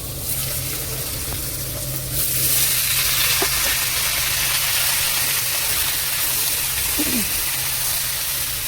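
Chopped ash gourd tipped into a hot pan of oil with mustard seed tempering and chickpeas, the sizzle swelling louder partway through and holding steady, close by, with a couple of light utensil knocks.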